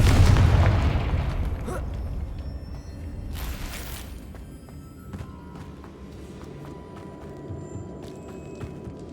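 A blasting-spell explosion in Hogwarts Legacy booms loudly at the start and rolls away into a decaying rumble, with a couple of brief sharp bursts of debris noise and faint ambient tones trailing after.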